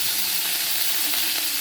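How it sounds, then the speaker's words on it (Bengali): Pointed gourd (potol) frying in a partly covered pan for a Bengali fish curry, a dense, steady hiss of sizzling oil heard close up with no voices. "একটু ঢেকে ঢেকে আমি ভাজবো।"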